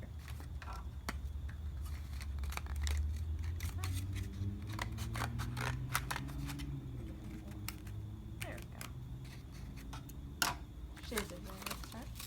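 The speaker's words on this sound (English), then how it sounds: "And then we can even cut it like this too." Scissors cut through paper in a children's library craft session, snipping in quick close bursts of crisp cuts while an adult talks over them.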